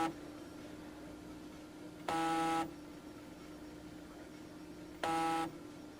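A Brother MFC-7220 scanner's stepper motor runs with a low steady hum, broken twice by brief, loud tonal buzzes about three seconds apart, like a motor whining through a scan pass.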